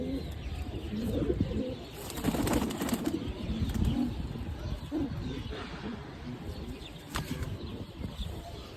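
Pigeons coo in repeated low, throaty calls over a busy background, with a few chirps and faint wing flutters mixed in, close by and fairly loud.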